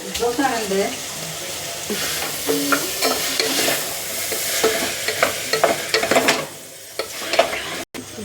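Tomatoes and spices fry in a pan while a spoon stirs and scrapes, giving steady sizzling with irregular clatter and knocks close by.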